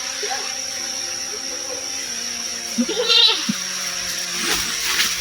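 A goat bleats a few times in short, wavering calls over a steady high-pitched hum, fairly close and moderately loud.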